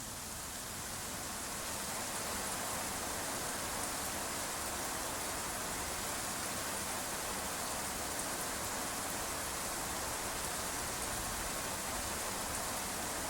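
Heavy, continuous downpour set to full rain in the video game Arma 3 roars evenly throughout, a thick wash of rain noise that swells slightly at the start and then holds steady.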